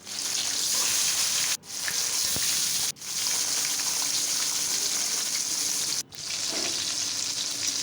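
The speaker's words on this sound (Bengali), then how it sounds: "এখন আমি মাছগুলো ভেজে নিব।" Koi fish fry in hot mustard oil in a kadai with a loud, dense sizzle, close by, broken three times by brief near-silent dips before the crackling resumes; no talking.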